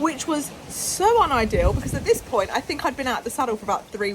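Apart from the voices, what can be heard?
None of the usual background noises is heard.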